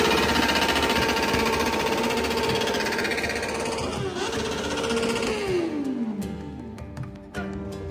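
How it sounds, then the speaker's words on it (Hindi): Kawasaki ZX-10R motorcycle engine at an event in Kathmandu, a loud, dense high-revving roar held for several seconds before winding down, with a few sharp pops near the end. "अभी भाई अपने ZX10R का साउंड सुनाएंगे।"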